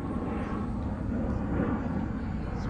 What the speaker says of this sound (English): You can see all the planes from here.